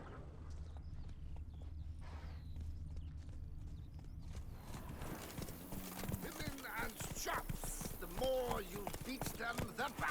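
Roach the horse's hooves clip-clopping in The Witcher 3: Blood and Wine, a steady rhythmic gait over a low ambient bed, later joined by a busier passage with a horse's snort and other game sounds.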